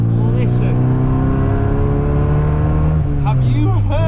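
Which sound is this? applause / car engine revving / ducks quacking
car engine revving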